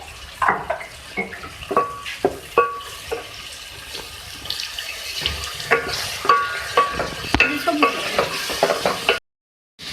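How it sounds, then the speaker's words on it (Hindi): Tomato masala with coriander powder and added water sizzles in a pan while a spoon stirs it, giving irregular scraping clinks and bursts of frying over a soft bubbling bed, close and fairly clear. "मिक्स कर भून लेंगे इसको। इसमें मैं जो है थोड़ा सा पानी ऐड कर रही हूँ ताकि अच्छी तरीके से भून जाए"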